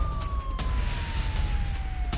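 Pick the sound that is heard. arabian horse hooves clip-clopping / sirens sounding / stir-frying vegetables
sirens sounding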